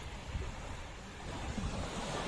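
Sea waves wash onto a beach where people bathe, Marina Park in the Andaman and Nicobar Islands, a faint, steady rushing surf with soft wind noise and no voices.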